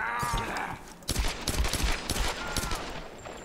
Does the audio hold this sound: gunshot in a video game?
yes